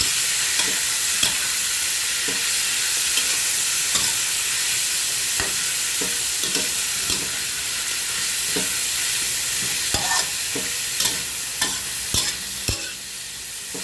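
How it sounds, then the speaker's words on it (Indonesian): Steady sizzling of chicken liver and gizzards frying in a pan, with scattered clinks and scrapes of a utensil stirring, continuous and close. "dimasukkan satu dengan empelaknya, kita goreng-goreng"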